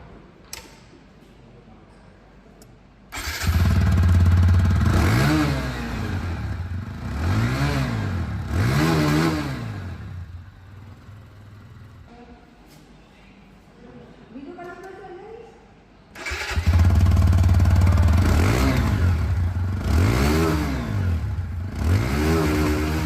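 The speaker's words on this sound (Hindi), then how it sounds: "दोनों ही बाइकों की जो एग्जॉस्ट साउंड है ना" A 2023 TVS Apache 160 2V or Apache 180 engine revs up loudly through the exhaust several times in rhythmic bursts, drops back to a quieter idle, then revs hard again, close by.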